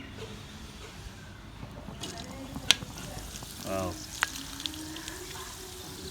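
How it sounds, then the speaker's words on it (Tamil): Black pepper fries in ghee for a pongal, a close, steady sizzle broken by sharp pops and crackles, with a brief scrape of stirring partway through. "நல்லா பொரிஞ்சு வருது."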